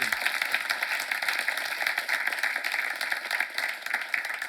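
A church congregation gathered for a seminar session bursts into warm, sustained applause, many hands clapping densely and evenly from across the room for several seconds.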